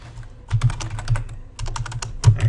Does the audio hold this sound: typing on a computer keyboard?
yes